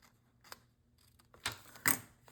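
Scissors cutting envelope paper, a few sharp crisp snips, the last two louder and close, with quiet rustling between.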